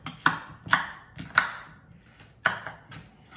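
Knife chopping tomatoes on a board, about five crisp separate chops in an uneven rhythm, close and clear with nothing else over them.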